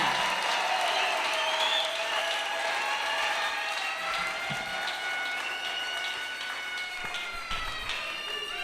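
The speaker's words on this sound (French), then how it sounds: "Acclamez pour le Seigneur" A church congregation claps in sustained, dense applause, with a steady patter running throughout over sustained tonal sounds in the background.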